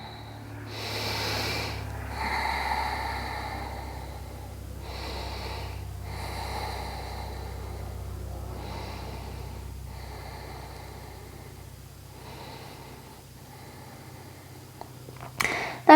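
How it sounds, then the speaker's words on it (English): Deep, slow breathing during a yoga forward fold, with long audible inhales and exhales that repeat in a steady rhythm over a low background hum, close and soft, ending in a short sharp sound. "Breathe deeply here."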